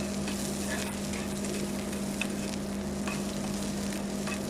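Onion leeks sautéing in hot oil in a pan, a steady close sizzle with occasional light stirring clicks and scrapes, continuous and even with no talking.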